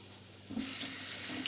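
Tap water starts suddenly and runs steadily into a sink as hands are scrubbed with a zinc brush in a kitchen while cooking oxtails, close and continuous, with no talking.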